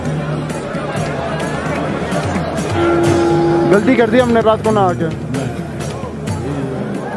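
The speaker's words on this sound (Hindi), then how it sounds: "भीड़ देखो भाई भीड़ देखो कितनी ज़्यादा भीड़ है" A large crowd of pilgrims at Kedarnath temple fills the air with steady, dense chatter and hubbub, with nearby voices talking over it and a brief tonal sound midway.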